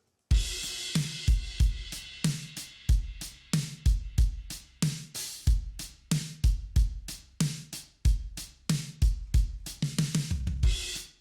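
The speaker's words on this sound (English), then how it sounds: "That is such a big, gross, and stupidly distorted drum sound." A heavily distorted EZdrummer 3 Tight Room kit pounds out a steady, driving beat, with booming kicks and crashing, crushed snare hits repeating loud and unbroken throughout.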